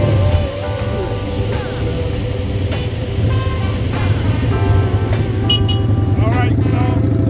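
A Kawasaki motorcycle pulls up nearby with a steady engine drone, joined by other vehicle noise and short horn-like toots, while a person talks over it.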